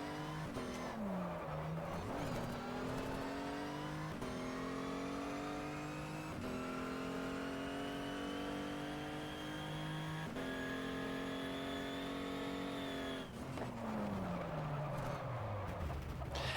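Car engine in a racing video game, a steady droning tone that rises and falls through gear changes, closing with a falling whine near the end. It plays loud and continuous with no talk over it.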